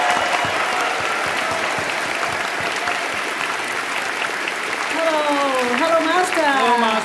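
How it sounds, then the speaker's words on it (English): A crowd applauds steadily to welcome an honored guest at a global vegan unity event, the clapping dense and sustained throughout, with voices rising over it near the end. "let's give a warm round of applause to welcome our most honorable"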